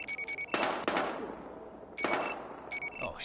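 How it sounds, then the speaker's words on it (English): Gunfire in the Battlefield Hardline video game: a few clusters of sharp rapid shots and a couple of heavier bursts with echoing tails, fairly loud, mixed with game sounds. "We've got gunshots. We're engaging."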